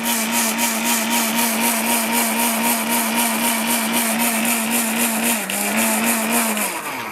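An ORPAT blender with a steel bush grinds ingredients to powder, a loud close motor whine with a steady pulsing rattle that holds throughout and dips slightly in pitch near the end.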